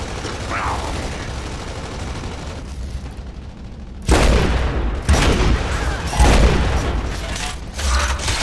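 Gunfire rings out during a competitive first-person shooter tournament match, with a quiet stretch followed by loud bursts of rapid shots and booms while players talk over the action.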